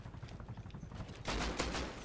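Gunfire in the survival game Rust: rapid bursts of automatic shots, faint at first, then a louder, denser volley in the last second, with no voices.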